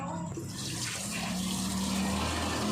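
Water runs steadily as food is washed by hand in a home kitchen, a constant close hiss and splash that stays even throughout with no pauses.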